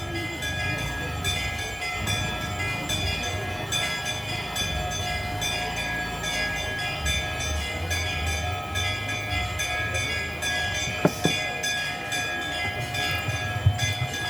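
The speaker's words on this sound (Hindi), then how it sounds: "इस घंटी को भी बजने दो ना बेचारी।" A steady metallic ringing wash of temple bells during an aarti ceremony fills the space continuously, dense and sustained with occasional sharper strikes, loud and near, with faint voices underneath.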